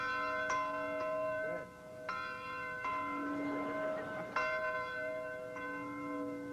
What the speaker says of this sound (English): That's your bell, I take it.